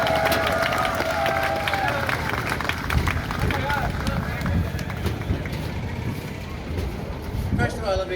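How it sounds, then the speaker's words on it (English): A convention crowd claps and cheers for Charles Martinet, the voice of Mario and Luigi, at a fan panel, sustained applause under steady crowd chatter and voices. "One more time, a round of applause for Mr."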